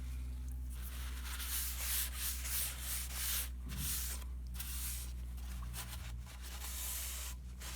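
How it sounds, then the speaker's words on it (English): A cloth rag rubs excess wood stain off a rustic wooden first responder flag, giving a steady, close-up scrubbing swish with a few brief pauses between strokes. "I'm going to go ahead and wipe off the excess stain."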